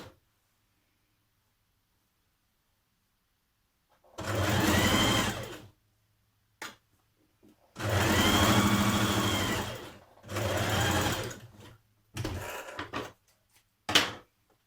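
A home sewing machine stitches darts on dress back skirt panels in several separate runs of steady mechanical whirring, each a second or two long, with quiet gaps between bursts.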